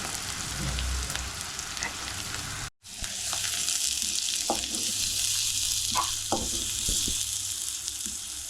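Tomato rasam with salt and turmeric sizzling in a pan while being stirred, a loud steady fry hiss with a brief gap and scattered scraping clicks of the spoon, no voices.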